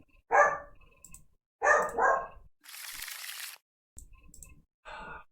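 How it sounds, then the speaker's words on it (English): A dog barks in three distinct sharp bursts, close and clear, separated by a short noisy rustle and faint background sounds. "That dog."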